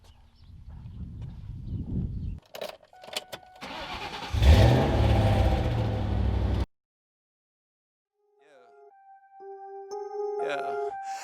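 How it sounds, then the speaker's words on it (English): A Ford Mustang's engine rumbles loudly and steadily for several seconds as the car drives, then cuts out abruptly, leaving silence before quieter tonal sounds return. "All right, we're gonna head down in the Mustang"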